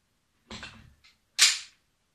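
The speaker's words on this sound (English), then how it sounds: "But what if you load your gun like this?" A Canik TP9 Elite Combat pistol being loaded, heard as a quick mechanical rattle followed by a sharp, bright metallic slide snap, close and alone with no talk.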